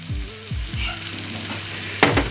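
Peppers fry in a pan with a low background sizzle while a voice talks over it, ending in a brief burst of louder crackle and hiss.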